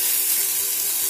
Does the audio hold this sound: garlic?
yes